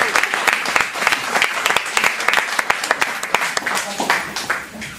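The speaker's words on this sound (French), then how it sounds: "Vous pouvez vous applaudir, c'est très bien ce que vous faites." Audience applause at a support event for an SDF collective: a full, lively burst of clapping with sharp individual claps popping out, gradually thinning toward the end.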